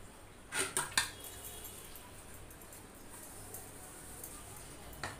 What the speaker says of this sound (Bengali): সেই পিঠা তৈরি করার সময় যে যে ময়লা জিনিসগুলো হয়েছে সেইগুলো আমি ধুয়ে নেব এক এক করে